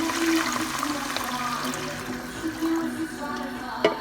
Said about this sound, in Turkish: tomat əlavə 3 stəkan su əlavə edirik